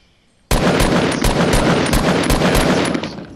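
Loud, close automatic gunfire in the video game Fortnite: a sudden sustained burst of rapid shots in quick regular rhythm, starting abruptly after a quiet moment and running for about three seconds.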